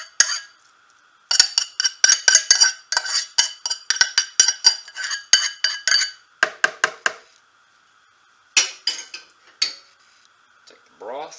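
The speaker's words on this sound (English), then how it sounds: "Let's take your rice, dump it in." Cooked, still-steaming rice tipped into a bowl for homemade dog food: close, sharp clinks and scraping clatter in quick bursts, broken by short pauses, with no talking.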